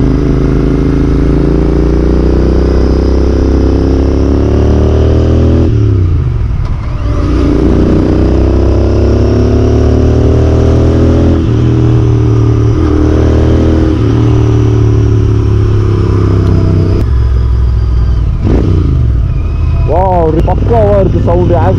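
A Royal Enfield Interceptor 650 engine drones loudly and steadily while riding, rising and falling through throttle changes with a rough mechanical edge, as someone talks over it throughout.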